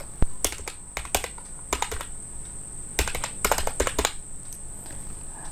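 Someone types an ID into a computer keyboard: a steady stream of close, crisp key clicks in irregular bursts, with brief pauses and quicker clusters near the end, over a faint electronic hum.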